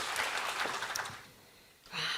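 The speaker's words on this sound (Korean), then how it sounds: "힘찬 박수로 맞이해 주십시오." An audience at an education and AI forum applauds to welcome two keynote speakers. The clapping is broad and steady for over a second, thins out, and then rises again near the end.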